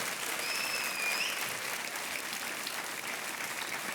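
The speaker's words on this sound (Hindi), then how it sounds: "ताली बजती रहनी चाहिए।" Studio audience at a television quiz show applauding steadily, an even sustained patter of many hands filling the room, with a faint whistle near the start.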